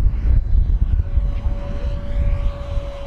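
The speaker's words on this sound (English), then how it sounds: "All right, Steve, let's see if I can fly this upside down for everybody here a little bit" An FMS P-47 Razorback 1500mm radio-controlled warbird flies overhead at an airfield, its electric motor giving a steady droning whine under wind rumble, held at a moderate distance throughout.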